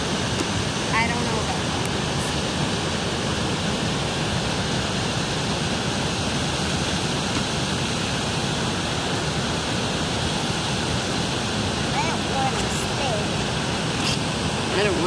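Weber Falls waterfall in Tahoe National Forest, California, gives a steady, loud broadband rush of falling water with no break for the whole stretch, close and constant.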